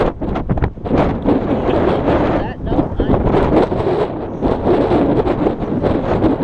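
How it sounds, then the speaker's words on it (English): Strong wind buffets an outdoor microphone during street cross-walking, a loud, continuous roaring rumble with gusty surges, while a voice speaks briefly over it. "That's a pretty strong wind."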